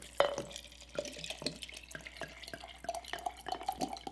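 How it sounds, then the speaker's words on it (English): Water is poured from a tap into a jar half full of chickpeas for soaking, heard as a close, uneven run of small splashes, drips and clinks, fairly quiet and without speech. "you fill up the rest of the jar with water"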